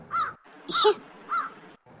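Three sharp, close crow caws ring out in a steady rhythm beside an outdoor mutton curry cookout for a North Karnataka village feast, with no one speaking.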